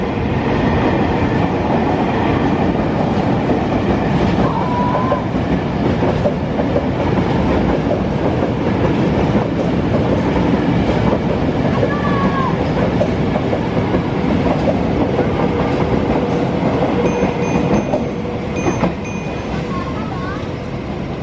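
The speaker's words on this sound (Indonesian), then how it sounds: "Kita lihat ada KRL yang melintas di jalur ini." An electric commuter train (KRL) rumbles past nearby on a line toward Citayam, near the disused Gunung Putri station, with a continuous roar and faint clatter of wheels, steady for the whole stretch, with some voices in the background.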